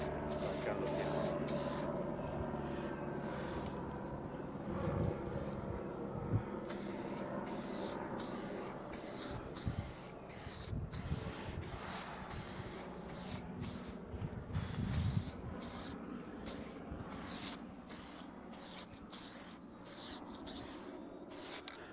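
An aerosol spray paint can sprays a car guard in repeated short hissing bursts, each a second or less, with brief pauses between them over a faint low background hum, fairly quiet and close.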